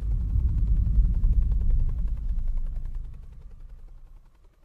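Helicopter flying over jungle, a deep rapid rotor thump that is loud at first and then fades steadily as the aircraft moves away.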